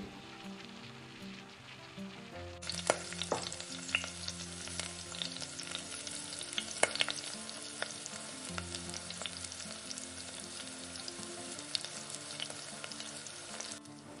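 Banana bondas frying in hot oil in a kadai give a steady, dense sizzle that swells loudly once they drop in, with faint stirring clicks and bubbling throughout.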